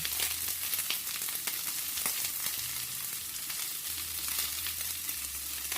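Tofu and quinoa stir fry with a splash of tamari sizzling in a pan while it is stirred, a dense steady crackle with small scraping clicks, close up and without speech.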